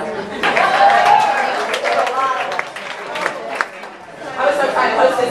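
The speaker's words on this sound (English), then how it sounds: "applause for the broads out there" Audience applause at a live stand-up comedy show, a crowd clapping and cheering with chatter and some laughter, swelling and fading over a few seconds.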